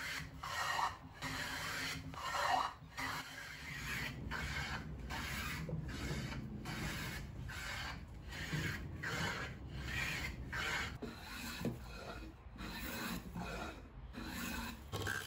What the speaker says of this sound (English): I planed down this length of cedar